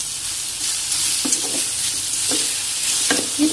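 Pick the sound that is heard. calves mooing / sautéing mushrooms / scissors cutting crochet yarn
sautéing mushrooms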